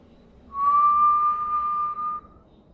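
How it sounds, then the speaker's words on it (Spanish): A long, steady whistle used as a sound effect for a night-walk horror story, one sustained pure tone that starts after a moment of quiet, holds for about two seconds and then stops. "Un silbido largo y profundo."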